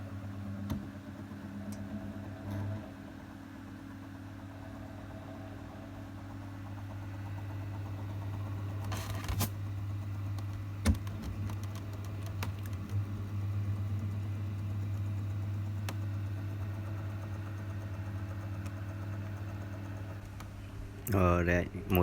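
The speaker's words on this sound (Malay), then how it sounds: "Alright, motor berjalan lancar." A homemade egg incubator for chicken, bird and quail eggs runs with its fan motor humming steadily throughout, a constant low drone with a few brief clicks and a louder rattle near the end.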